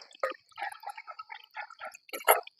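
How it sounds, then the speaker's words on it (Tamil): Thick masala curry for anchovy thokku bubbles in a pan, throwing out irregular wet pops and plops one after another, close and fairly clear with no voices. "அழகாக கொதி வந்துருச்சு"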